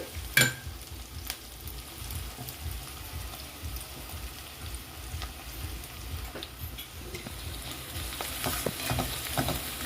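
Onion softening in oil in a pan for a potato, pea and cabbage dry vegetable dish, a steady close sizzle with scraping spoon stirs and a sharp clank near the start.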